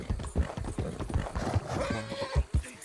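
Horse hooves gallop in a steady, close clip-clop rhythm in Red Dead Redemption 2, with a brief whinny-like tone partway through over a busy game soundscape.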